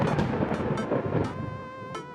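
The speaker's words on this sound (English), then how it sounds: "Thunder, obviously" Thunder in the dating-sim game Dream Daddy, a deep rumbling crack that rolls and fades over about two seconds, heard alone without voices.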